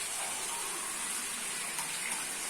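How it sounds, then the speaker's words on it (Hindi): Water being poured into a pan of frying potatoes, a steady rushing, hissing pour with no breaks, close and fairly loud. "आलू में पानी डाल लेंगे भुनाई के बाद।"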